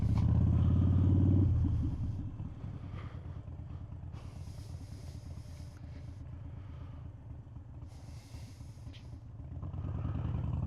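A motorcycle ridden through local canyons gives off a steady rumbling engine drone that is louder at the start, eases to a lower hum through the middle, then swells again near the end, with faint wind hiss between.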